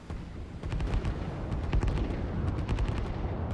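Ships firing in the RTS video game Line War, a dense rumbling barrage of rapid shots and booms that swells after a moment and keeps going without pause, with no speech over it.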